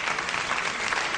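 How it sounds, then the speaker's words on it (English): Studio audience applause at a political comedy talk show, a dense burst of clapping filling the whole short moment without pause. "You may applaud that."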